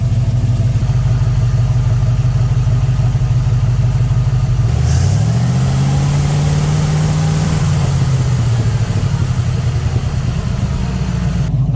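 A 1967 Chevrolet C50 truck engine, just restarted after nine years of sitting, idles loud and close in a steady low rumble, with a brief rise in revs midway before settling back to idle.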